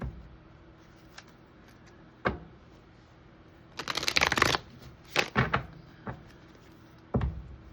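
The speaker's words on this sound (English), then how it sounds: "We're going to go ahead and cut the deck now." Tarot cards being shuffled and riffled in several bursts, with short sharp card slaps and a longer dense flurry in the middle, close and fairly quiet with no talking.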